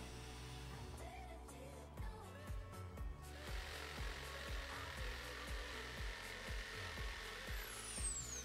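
Power drill driving screws through a wooden deck board on an outdoor wood terrace, heard as a steady run of short, repeated whirring bursts close by with faint knocks between them.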